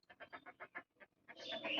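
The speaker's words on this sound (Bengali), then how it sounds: "আমার মুরগি ডিম পারছে কপাল ফিরে গেছে" A laying hen clucks in a quick series of short, throaty notes, pauses briefly, then breaks into louder, more excited cackling nearby.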